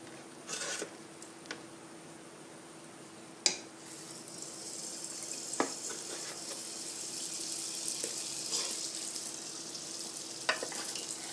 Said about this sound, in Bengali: আর বাকি বনগুলোও দিয়ে দেব কড়াইতে